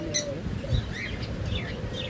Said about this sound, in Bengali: একটা চমৎকার হল্যান্ড ব্লাড লাইনের টিয়া পাখি দেখতেছেন